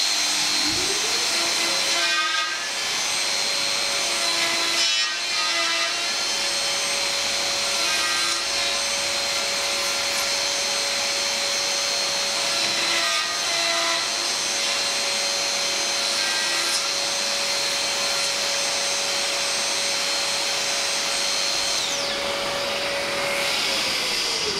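A Festool VS600 dovetail jig setup cutting wood: a steady, loud whine of a router with dust extraction running underneath, plus repeated rubbing passes through the workpiece, continuous throughout and close by.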